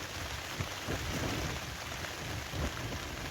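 Rain falls steadily on a tent at a wild camp on the Pennine Way between Byrness and the Cheviots, a dense, close hiss with occasional heavier gusts and no voices.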